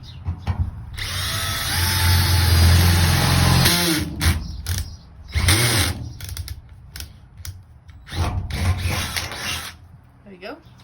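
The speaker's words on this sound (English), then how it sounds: "He's just gonna drill up into that mark there" Loud power drill whining as it drills up into a van roof, a long sustained burst, then several shorter bursts, with clattering and handling noises in between.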